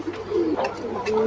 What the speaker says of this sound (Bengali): এইখানে এক জোড়া কালো লাহরি